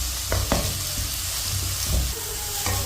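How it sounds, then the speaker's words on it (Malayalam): Curry leaves with tomato sizzle and fry in a pan during a mussel roast, with steady frying hiss and a few sharp spoon scrapes as the mix is stirred, loud and close throughout. "ഇനി ഒന്ന് വാട്ടി വാട്ടി നമ്മൾ കറിവേപ്പിൻ്റെ ഇട്ടിരിക്കുന്നത് നല്ലപോലെ മിക്സാക്കും"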